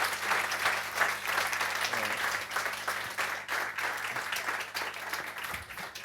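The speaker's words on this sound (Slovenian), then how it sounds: "sam en aplavz ti bomo vsem spustili" Sustained applause from a live audience at a Creative Mornings Ljubljana morning talk event, dense and steady throughout at moderate loudness, with faint speech mixed in.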